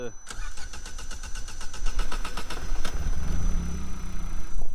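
A Mini's engine with dead-low fuel pressure cranks briefly, catches, and settles into a steady, rumbling idle, heard up close.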